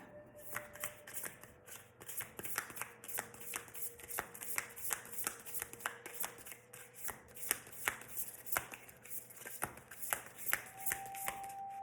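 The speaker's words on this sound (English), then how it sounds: "Let's grab a tarot card." A tarot card deck being shuffled close by, a steady run of crisp riffling snaps and card flicks repeating for several seconds with no talking.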